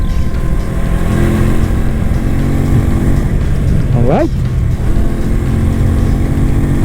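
An FKM Agimat 175cc motorcycle engine on a test ride, a loud continuous drone with a brief rev that rises and falls midway, while someone talks over it.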